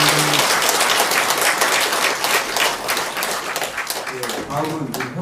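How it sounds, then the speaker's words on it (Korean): An audience at a Korean church service claps in sustained, dense applause of encouragement, loud and close, with voices faintly mixed in at the start and end. "여러분들 격려 박수"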